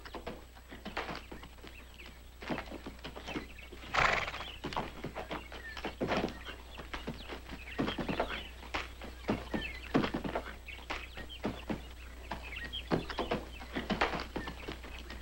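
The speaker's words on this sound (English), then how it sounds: "stay away from that dreadful horse" A restless horse acting up, with hoof thumps and clatter on ground scattered irregularly across the stretch at moderate distance, over a steady low hum, with no clear whinny standing out.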